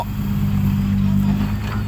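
A vehicle stuck in mud revs its engine loudly, with a heavy, sustained low roar and a steady throbbing drone that stay close and constant.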